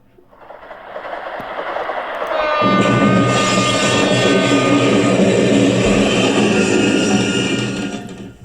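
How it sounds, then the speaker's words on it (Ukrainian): A train passing close by builds from a distant rumble into a loud, sustained roar with screeching metallic wheel tones, then stays intense until the end. "а тут поїзд."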